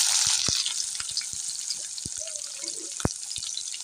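Chopped onion sizzles steadily in hot soybean oil with fried garlic, a continuous frying hiss punctuated by light taps and clicks of a utensil against the pan.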